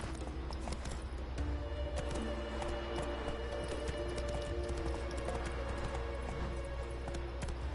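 Hooves of a horse galloping in The Witcher 3: Wild Hunt, a steady rapid clip-clop rhythm over a low ambient game soundscape, with no talking over it.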